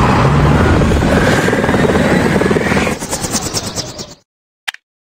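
Loud cartoon helicopter with a dense whirring rotor sound that holds steady, then thins into a choppier pulse before cutting out, followed by a short sharp click.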